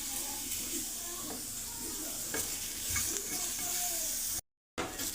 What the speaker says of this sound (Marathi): त्याच पॅनमध्ये एक ओव्हल स्लाइसमध्ये कट केलेला कांदा आपण भाजून घ्या.